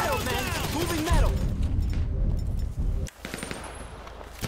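Rapid automatic gunfire from the GTA 5 heist The Big Score crackles in dense bursts beneath shouting characters and game effects, ending with a sudden drop before scattered shots resume.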